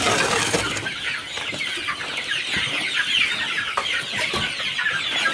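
A flock of chickens clucks and chatters continuously, many overlapping calls nearby, busy and steady without pause.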